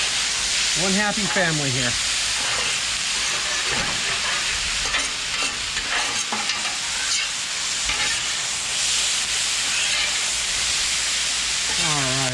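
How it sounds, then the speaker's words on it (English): Spanish goulash stirred and scraped across a hot Blackstone griddle, a steady loud sizzle with clattering spatula strokes throughout, and someone talking briefly over the cooking. "Okay, time to mix everything together."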